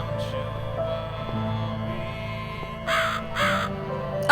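Two harsh crow caws from The Cat Lady video game sound in quick succession over a low droning, eerie ambient hum, with no voices.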